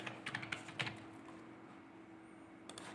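Several quick keystrokes tapped on a computer keyboard while entering a name in AutoCAD, clustered in the first second with a couple more near the end, close and fairly crisp over a steady low hum.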